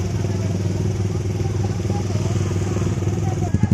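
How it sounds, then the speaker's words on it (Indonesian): Motorcycles pass along a busy road in front of an elementary school in Lambaro, Aceh, their steady mid-pitched engine drone continuous throughout, with a few thumps near the end. "Dan di sini cukup ramai dari para pengendara sepeda motor yang lalu lalang lewat"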